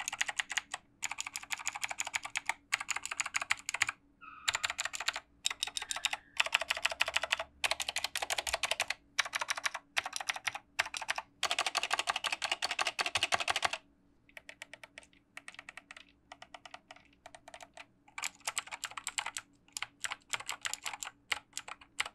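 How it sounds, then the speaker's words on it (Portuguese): Crisp, clicky keystrokes typed in steady bursts on a Dazz Shuriken mechanical keyboard with blue switches, close up, with brief pauses between runs and no talking. "eu sinto que o clique dele é um pouco mais grosseiro e mais barulhento"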